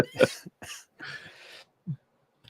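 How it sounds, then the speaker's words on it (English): A few harsh coughs in quick succession, close and fairly loud, followed by a short throat noise and silence. "Sorry, I've got a bad cough."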